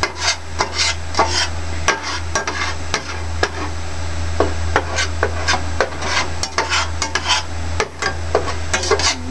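Egg and vegetables for Chinese fried rice (chahan) stirred in a pan on a gas stove, a steady low sizzle under repeated scraping strokes of a utensil against the pan, close and fairly loud, with no talking.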